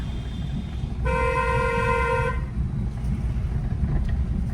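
A single sustained car horn blast, steady and fairly loud, lasting over a second against a rumbling engine and city traffic noise.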